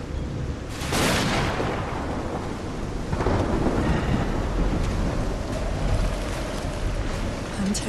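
Thunderstorm in the video game Call of the Sea on a reef-lined beach: heavy rain hisses steadily while two loud thunder claps roll through, the first sharp and close, the second a longer rumble fading under the downpour.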